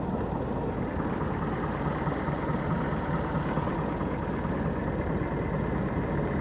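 A 2013 Mercury 150 hp four-stroke outboard engine idles slowly at very low rpm, giving a steady, close, unbroken mechanical drone with no talking.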